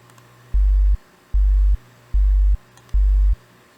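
Four evenly spaced sub bass notes from an FL Studio 3xOsc synth, each a deep, loud, sustained low tone about half a second long, separated by near silence.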